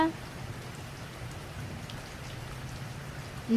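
Steady rain falls without a break, a dense, even hiss of drops that fills the whole stretch with no voices.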